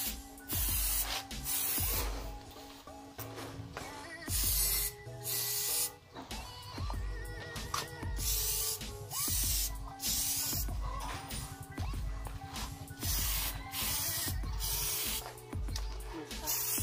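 Samurai surfacer paint sprays from an aerosol can onto a motorcycle crankcase, a loud close hiss in repeated bursts with short pauses and can handling between them.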